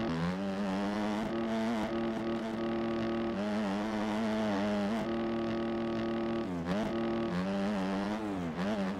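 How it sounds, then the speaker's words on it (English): A motorcycle engine in the MX Bikes motocross game is blipped with repeated throttle taps, its tone rising and dipping as it revs. The engine is loud and steady throughout, with no talking. "just tapping the gas right here, boom, boom, boom, boom, definitely seems to help out a lot"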